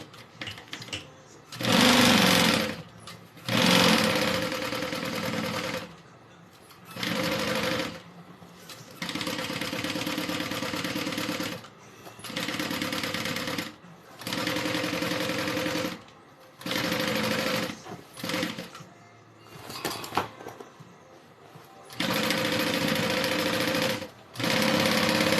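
A sewing machine stitches cotton pieces of a Denver backpack, running in many short and medium bursts separated by brief stops as the fabric is turned, loud and close with no talking.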